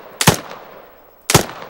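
Two loud, close gunshots about a second apart, from a gun fired in the ARMA 3 video game, each with a short sharp crack and a quick decay.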